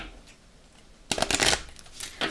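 A deck of tarot cards being cut and shuffled, a quiet pause followed by a burst of riffling card noise and a short second flurry, close and alone with no talk.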